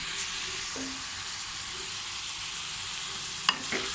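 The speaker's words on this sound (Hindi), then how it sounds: "नमक और हर चीज़ इसमें मिक्स कर देनी है" Okra masala sizzles steadily in a pan as spices and salt are stirred in, a constant bright frying hiss with a brief scrape of the spoon near the end, no one talking.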